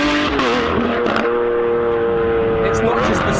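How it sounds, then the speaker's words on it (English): A Lamborghini Aventador SVJ engine roars loud and steady with a sustained harmonic tone, a voice talking over it throughout. "the SVJ is probably the loudest factory car I've ever heard on the road"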